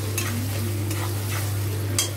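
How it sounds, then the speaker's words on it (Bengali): Chopped tomato stirred into onions frying with ginger and garlic in a pan, a continuous sizzle with scattered spatula scrapes over a steady low hum, ending in a sharp clack. "এবার দিয়ে দেবো টমেটো কুচি"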